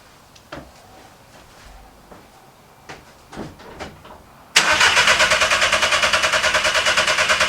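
A car engine sits quiet through a few faint clicks and knocks, then the starter kicks in suddenly and cranks loudly in a fast, even rhythm for several seconds without the engine catching.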